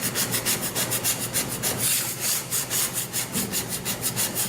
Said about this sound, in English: I'm using a dough scraper, and I'm just going to gently get some of this debris off.